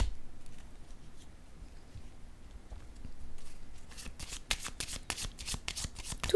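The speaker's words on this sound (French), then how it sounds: "Je vais déposer une carte ici." Tarot cards handled and laid down on a table: soft, close rustling that builds into a quick flurry of crisp card flicks near the end.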